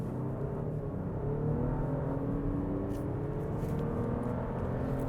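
Lexus RX SUV pulling away from a brake-held launch, a steady engine whir and low rumble climbing gradually in pitch as the vehicle accelerates, heard from inside the cabin with no talking.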